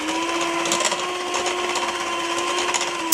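A hand whisk beating eggs into cookie batter in a bowl, giving a steady, continuous scraping and clattering with fairly even rhythm throughout, close up and alone with no talking.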